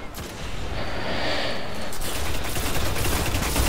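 Dense video game gunfire crackles steadily and loudly for several seconds, a continuous fusillade of shots with no voices.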